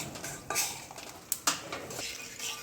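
A spoon stirs ginger powder into a sukhadi mixture in a pan, making quick metallic scrapes and a few sharp clinks against the pan, close and moderately loud.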